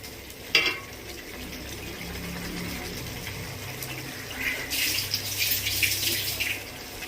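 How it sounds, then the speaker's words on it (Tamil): Milk kurma simmering at a rolling boil in a pot, a steady bubbling and faint sizzling that swells louder toward the end, with a brief knock near the start and no one talking. "நல்லா கொதி வந்துருச்சு."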